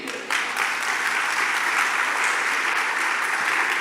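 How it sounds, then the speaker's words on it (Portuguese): Church congregation at a Wednesday worship service breaks into sustained, dense applause that starts abruptly and holds at an even level throughout. "Dê um aplauso ao Senhor."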